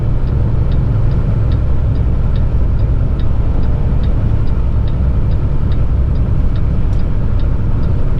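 A Kenworth heavy truck engine drones steadily and loudly on a Wyoming–Utah highway, a low constant rumble with faint regular ticking throughout and no voices.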